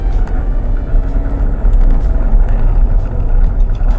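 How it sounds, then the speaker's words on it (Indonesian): A sports car cruises fast on the road, its engine and tire roar forming a loud, steady low rumble heard from inside the cabin, with slight surges in level and no talking. "kita jalan ya pakai mobil sport"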